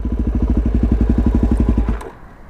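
A Suzuki DRZ400SM supermoto's single-cylinder engine idles in first gear with a steady, rapid low thump for about two seconds, then cuts out abruptly, leaving only faint background noise.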